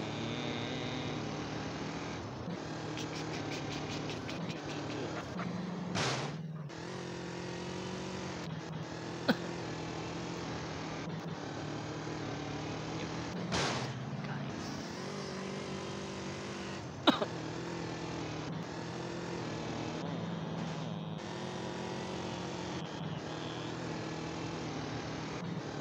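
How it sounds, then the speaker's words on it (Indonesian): A police racing motorbike, the HPV1000 in a video game, drones with a steady engine tone, broken by a few sharp clicks and brief surges. "Ultraman lagi naik motor"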